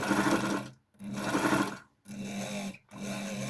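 An overlock sewing machine runs in four quick, even bursts separated by brief pauses, producing a close, buzzing mechanical whir at moderate loudness with no one talking.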